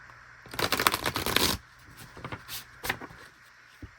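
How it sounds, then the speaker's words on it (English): A deck of cards is riffled in a quick, loud burst, followed by a few softer taps as the cards are squared up. "Okay, one more good shuffle."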